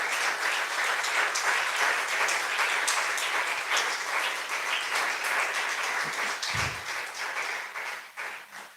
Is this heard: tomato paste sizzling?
no